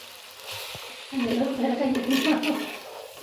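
Spiced biryani masala sizzles and fries in a pan at home, a steady close crackle that swells partway through, with some voices in the background.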